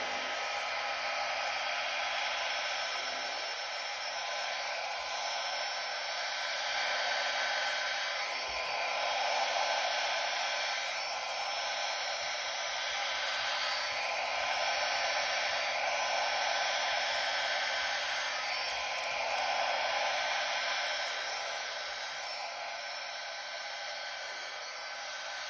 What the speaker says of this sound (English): now I've got my blow dryer, and on the low cool setting